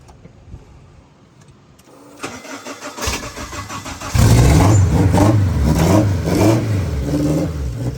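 A turbocharged K-swapped Honda CR-V cranks over briefly with a starter whine, then catches and fires into a loud, rough idle with revving that holds steady and close for the rest of the clip.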